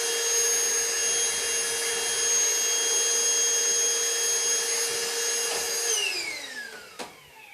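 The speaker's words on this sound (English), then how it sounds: "If you don't have one of these little battery powered vacuums, they are awesome" A small battery-powered vacuum cleaner whines steadily at close range with a bright, even tone, then winds down as it switches off near the end, leaving a faint knock.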